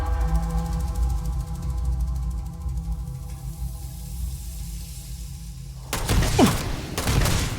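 Starfield combat on very hard difficulty erupts with a sudden, loud burst of rapid gunfire near the end, after a long stretch of steady background hum, with a couple of sharp shots following.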